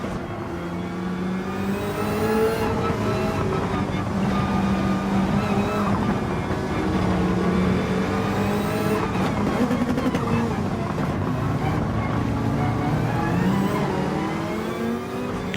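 Race car engines roaring steadily in the Gran Turismo 7 video game, loud and continuous with shifting pitch as the cars chase two Jaguars while a Nissan GT-R follows close behind.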